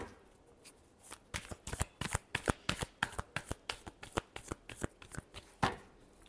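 A tarot deck is shuffled by hand in a quiet room, producing a quick series of crisp riffles and soft card taps, around twenty distinct bursts in an uneven rhythm close to the listener.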